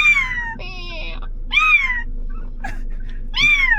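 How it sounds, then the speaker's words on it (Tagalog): A cat giving repeated plaintive meows, close and loud, four calls in a row with brief gaps and some faint background noise between them. "May pusa kami nakita dito."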